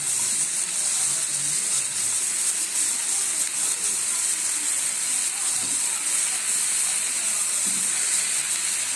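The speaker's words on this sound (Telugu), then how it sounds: "ఇప్పుడు బీరకాయ ముక్కలు వేస్తాం." Ridge gourd pieces hitting a pan of sizzling tomato masala, a loud continuous hissing sizzle that holds steady throughout, close by.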